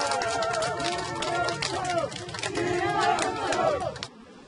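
Crowd of supporters at a Busan mayoral campaign rally cheering and shouting as the Democratic Party candidate's campaign vehicle arrives, a dense sustained roar of many voices outdoors, fairly loud, cutting off abruptly at the end.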